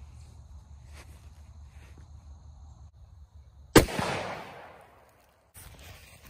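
A Springfield pistol fitted with a Sig Sauer Romeo 5 sight fires a single sharp, loud shot into a concrete bag, with a brief ringing decay after it and quiet room noise before and after.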